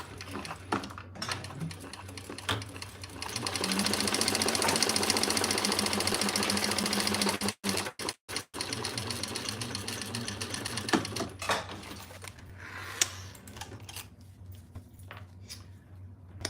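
A domestic sewing machine top stitching folded fabric flat, whirring in a steady fast run with a few brief stops, a hum underneath and quiet talk around it.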